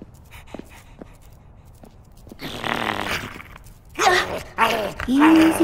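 Guard dogs in Minecraft: Story Mode pant and growl softly at first, then grow louder with panting, whimpers and snuffling bursts toward the end, close and busy.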